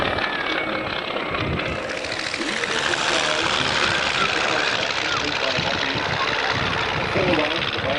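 A North American monoplane's propeller engine drones loudly and steadily at an outdoor air show, a broad continuous roar over wind and crowd noise, with voices likely mixed in.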